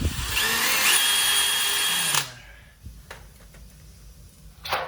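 Cordless drill running loud and steady for about two seconds during a home repair job, then cutting out abruptly as its battery dies, leaving only faint scattered knocks and handling noise.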